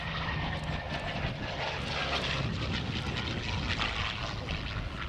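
A P-40N Kittyhawk warplane from 1943 makes a topside pass at an air day, its piston engine and propeller producing a loud, broad roaring drone that stays steady throughout.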